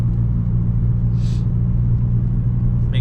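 A VW GTI engine idles at operating temperature, a steady low rumble close by, with a brief hiss midway and a small click at the end.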